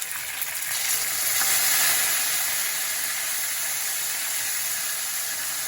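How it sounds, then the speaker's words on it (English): Fish fries in oil over high heat, a steady dense sizzle and crackle with no voices. "This is to fry a few more minutes on high heat."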